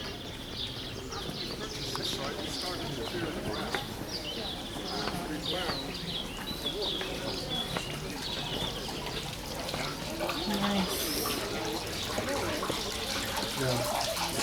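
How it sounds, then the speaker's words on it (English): Water from a spring fountain flows steadily into a cistern in a garden in Jerusalem, a soft, continuous splashing wash heard at moderate distance, with faint bird calls in the background. "Oh, what a lovely fountain."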